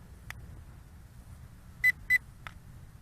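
A Spider X2 drone remote beeps as its photo button is long-pressed: two clear, close electronic beeps in quick succession with fainter clicks before and after, in a quiet room.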